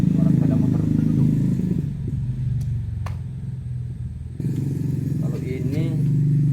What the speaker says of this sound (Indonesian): Itu ada suara kereta, suara sepeda motor penduduk.